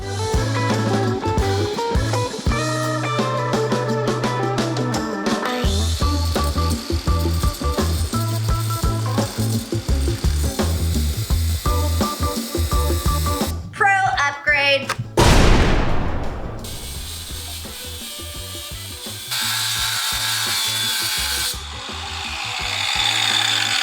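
A power tool cuts through a metal double bus door, giving a loud, close mechanical whine with rattling and grinding that shifts pitch, pauses briefly, then resumes with a long rasping cut and a steady drone.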